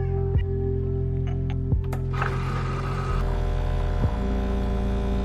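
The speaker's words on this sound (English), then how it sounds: "That is a perfect shot of espresso." An espresso machine pulls a shot with a constant low electric hum and pump throb, broken by a few soft clicks and knocks, steady and close throughout.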